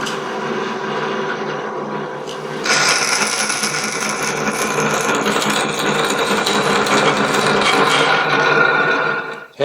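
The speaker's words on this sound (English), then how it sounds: "Let's drill the other one." Steady metal drilling of a hole in a workshop, a continuous loud whirring grind that starts, then jumps louder and brighter partway through and runs on evenly before cutting off at the end.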